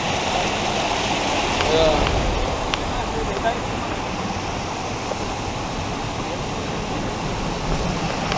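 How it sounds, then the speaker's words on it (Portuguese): Steady broadband rush of a waterfall at a trail outing, a constant roar of falling water filling the scene with faint voices and small bumps over it. "E a cachoeira?"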